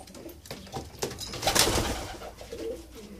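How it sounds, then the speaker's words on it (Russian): Pigeons coo softly nearby, a few throaty rolling calls with faint rustling and a brief wing flutter in the background. "Это необычные голуби."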